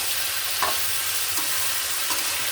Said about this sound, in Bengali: কষানোটা ভালো করে কষিয়ে নিতে হবে